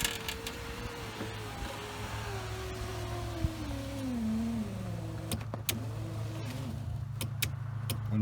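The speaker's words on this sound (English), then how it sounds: "window closes" Power window motor on a 2001-2006 Chevy Tahoe running steadily as the glass travels closed, a continuous whirring hum that slowly drops in pitch under strain, ending with a few sharp clicks and a settling thump near the end.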